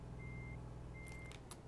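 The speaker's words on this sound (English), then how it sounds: "You know you're driving something big when it goes beep beep beep when it backs up." Reversing beeps from a big truck in the Euro Truck Simulator 2 driving game, two faint steady tones sounding over a low engine rumble as the truck backs out of a hotel lot.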